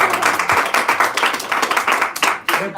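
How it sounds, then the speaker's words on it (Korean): Congregation at a church worship service clapping together, loud and close, in a quick rhythmic patter with a brief lull partway through before continuing. "우리 박수 한번 하십시오."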